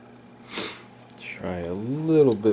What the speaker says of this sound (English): Still doing some sniffling